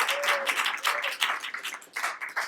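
Audience applause at a comedy night held at a veterans' theatre, a dense wash of many hands clapping steadily throughout, fairly loud and close, with no voices over it.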